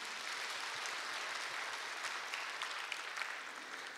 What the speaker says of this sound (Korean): 동산의 가족이 되신 분들에게 마음을 담아 박수로 환영하겠습니다